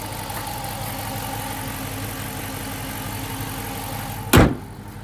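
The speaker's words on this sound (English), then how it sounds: "Nice loud factory exhaust on this one" A 2019 Dodge Challenger R/T Shaker's HEMI V8 idles through a loud factory exhaust with a deep steady rumble, close and continuous, ending with a sharp thump like a door or hood closing.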